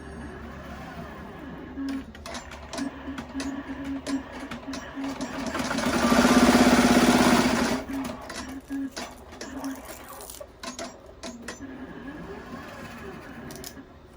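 An embroidery machine stitches a Velcro placement line for an in-the-hoop dog boot, a steady mechanical whir that swells louder for a couple of seconds in the middle, surrounded by rattles and clicks.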